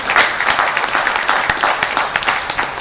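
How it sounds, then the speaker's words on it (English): A conference audience applauds the CEO of West African Health at the 2012 West African Health Exhibition and Conference, with dense, steady clapping filling the hall throughout. "a round of applause for him."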